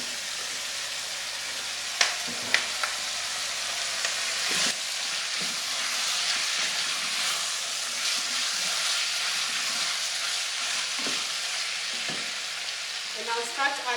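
Steak, kidneys and carrots fry in a pan with a steady, close hiss and sizzle, broken by a few sharp clinks and scrapes of stirring.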